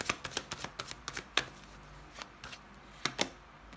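Tarot cards are handled and laid down on a table in a quick run of soft flicks and taps, then a few sparser slaps as cards are placed, close and quiet.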